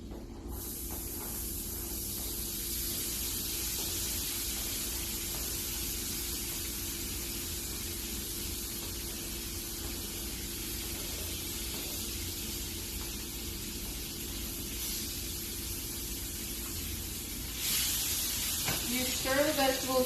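Vegetables sizzle in a pan for a kids' omelet, a steady broad hiss running the whole time, near and fairly even, with a few faint clinks and a slightly louder stretch near the end.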